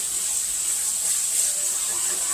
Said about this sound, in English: Let's just rinse it off a little bit.